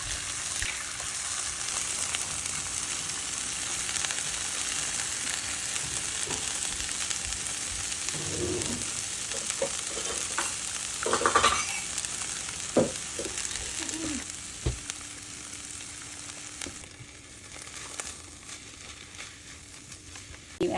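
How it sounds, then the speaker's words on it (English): Eggs scrambling in a pan with frozen vegetables and olive oil, a continuous close sizzle with scraping and stirring knocks through the middle, easing slightly toward the end. "now we're going to crack and scramble a few eggs over here"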